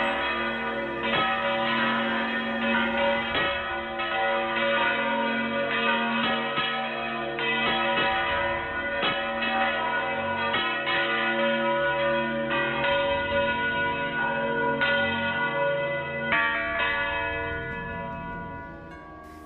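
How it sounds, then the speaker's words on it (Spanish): Church bells ringing out in full peal, dense overlapping strikes sounding continuously and loudly with a steady rhythm, bright ringing tones layered over each other throughout, no voices. "Esa misma noche echó a vuelo las campanas."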